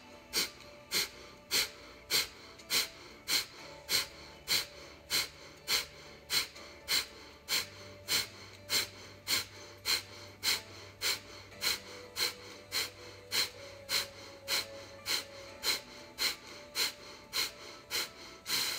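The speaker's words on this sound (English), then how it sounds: "let's add breath of fire, drawing the navel back to the spine." Breath of fire yoga breathing: quick, forceful nasal exhales pumped out in an even rhythm, roughly one every half second and a bit more, close and clear over a faint low background tone.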